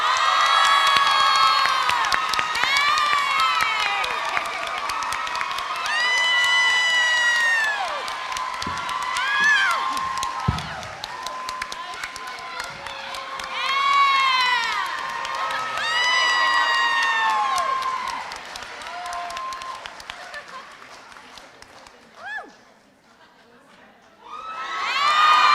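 A crowd at a Golden West College nursing pinning ceremony cheers and whoops loudly for about twenty-five seconds in a sustained, rising and falling roar that fades near the end. Any clapping is buried under the shouting.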